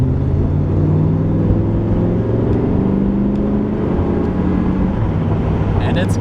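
A 1988 Chevrolet Camaro Z28 IROC with its 5.7-liter V8 drones steadily while driving, a loud continuous low engine hum with steady cabin road noise throughout.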